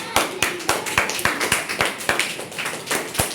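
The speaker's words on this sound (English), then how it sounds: "Clap for this boy." A classroom of students claps for a classmate in a fairly slow, rhythmic unison beat, each sharp clap close and distinct, roughly three per second.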